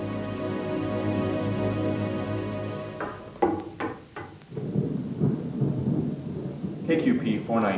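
Thunder set off by rocket-triggered lightning rumbles over a steady low hum, followed by sharp cracks and a rolling crash that fades out and then swells again, with a voice speaking partway through.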